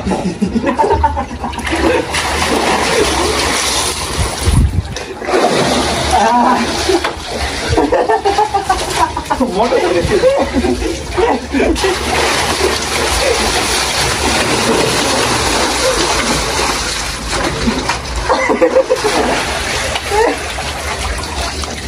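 Water splashes and sloshes as people bathe in a small makeshift swimming pool, a steady, fairly loud wash of water with talk and voices running over it.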